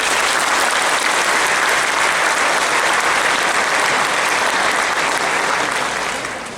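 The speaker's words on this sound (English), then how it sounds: "Let's give them a round of applause." An audience applauds graduating seniors at a Class of 2022 academic awards ceremony, a dense, loud wash of many hands clapping steadily for about six seconds before starting to fade at the end.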